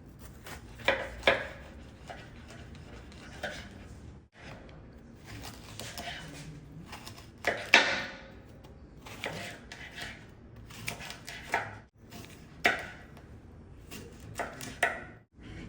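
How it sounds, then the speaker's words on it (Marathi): A white pumpkin, or ash gourd, is cut into pieces with a knife, giving irregular clusters of close, crisp chopping and scraping sounds separated by short pauses, with no talk. "हा भोपळा कट करून घेऊया"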